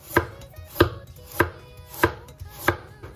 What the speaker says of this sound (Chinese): 准备一根削过皮的胡萝卜，先改刀给它切成薄薄的厚片